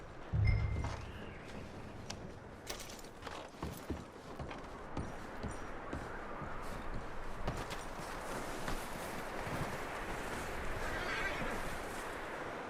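A horse whinnies briefly near the start in the video game Red Dead Redemption 2, followed by scattered hoof clops, clanks and footsteps over a steady outdoor ambience, with faint voices in the background.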